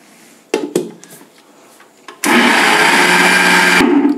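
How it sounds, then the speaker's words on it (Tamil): Mixer grinder grinding soaked dosa batter with water, a loud steady whirring motor that starts abruptly after a few clatters and runs continuously to the end. "நம்ம மிக்சி வச்சு கொஞ்சம் கொஞ்சமாக தண்ணி ஊற்றி அரைச்சிக்குவோம்."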